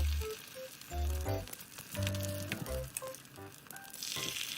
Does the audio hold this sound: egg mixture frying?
yes